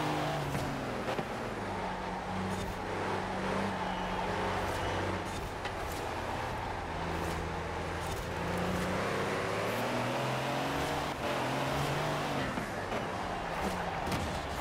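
A heavy truck engine held at full throttle in Forza Horizon 4, droning steadily with a rising and falling pitch as it strains along, fairly quiet and continuous with no talk over it.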